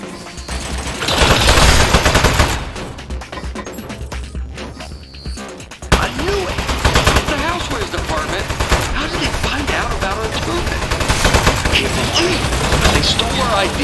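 In the video game Aperture Desk Job, a turret opens fire in loud, rapid bursts of gunfire, broken by a short lull and then resuming with dense clattering shots, while a voice speaks over it.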